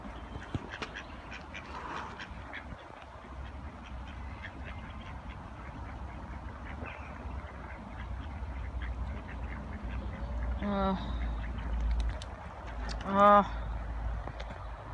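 Ducks squabbling, one of them injured, give two loud, harsh quacking bursts near the end, the second louder, over a steady low outdoor rumble and faint chatter.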